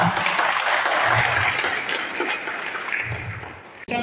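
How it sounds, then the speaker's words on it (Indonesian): Audience clapping at an Indonesian Catholic gathering marking 100 years of the bishops' conference, a lively burst that gradually fades before cutting off abruptly. "Mari kita berikan tepuk tangan."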